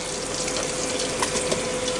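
Melted butter sizzles in a pot on a Ninja Foodi as vegetables are added, giving a steady, close frying hiss with a few brief pops and stirring sounds.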